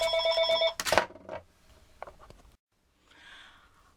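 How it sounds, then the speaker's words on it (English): A telephone rings once with a clear electronic tone, then breaks off into a short bump and faint rustling, followed by quiet and soft handling noise. "I apologize for the phone call."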